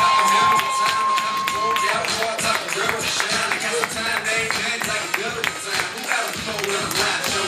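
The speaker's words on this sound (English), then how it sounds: "Let's keep it going for bridesmaids, Marissa Swan and Nicole Swan" Wedding reception crowd cheering and applauding as the bridal party is introduced, a loud continuous roar of voices and clapping filling the room with a brief steady tone early on.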